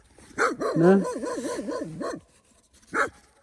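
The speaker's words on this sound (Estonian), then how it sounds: "nüüd ma saan vist endale koerad siia" Dogs bark and yip near a person grilling on lake ice, a quick series of close, rising yelps followed by a pause and one more sharp bark.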